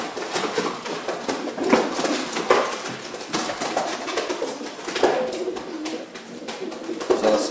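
Soft, repeated coos of a racing pigeon in a low rhythmic pattern, close by in a loft, with a faint background murmur and occasional light clatter.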